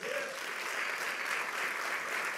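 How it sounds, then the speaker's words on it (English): A church congregation applauds during a sermon, steady sustained clapping from a crowd filling the whole moment without pause. "Come on, give God a round of applause."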